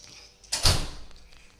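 A door swings shut in a single firm push during a playful house game, the close landing as one loud, broad thud with a short rattle that fades out within a second.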